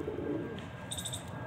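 A Madrasi pigeon coos softly near a pigeon loft, a brief low murmur followed by a few chirpy bird calls over steady background noise.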